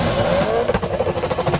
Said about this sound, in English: another car pulls up and starts revving its engine